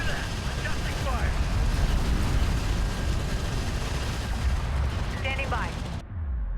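Artillery fire in a military video game, with dense, continuous rumbling blasts and gunfire filling the mix, ending abruptly near the close; radio chatter and voices sit under the barrage.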